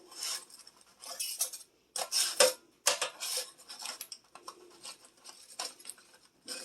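Metal tongs flip seasoned ground beef patties in a pan, making repeated close scraping clinks and rubbing metal sounds in irregular bursts with brief pauses between them.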